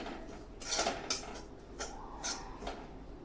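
Desiccated coconut is stirred in a kadhai with a metal spoon as it roasts. The spoon scrapes and clinks against the pan in several sharp bursts, close and clear, with no talk.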